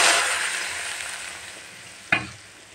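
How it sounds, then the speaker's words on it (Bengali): Hot spiced oil tempering (baghar) hits a pot of nehari with a loud hiss that slowly fades, followed by a brief sharp crackle of fresh sizzling near the end. "এখন আমি বাগার দিই"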